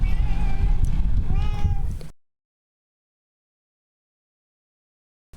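A pet cat meows several times up close in a quick, loud run of calls, the meows stopping abruptly and followed by silence.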